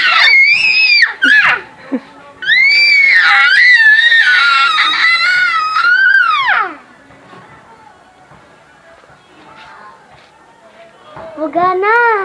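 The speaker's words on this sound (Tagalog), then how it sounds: "Sigaw ka pa" A young child screams loudly and close up in long, shrill bursts, falling quiet partway through before screaming again at the end.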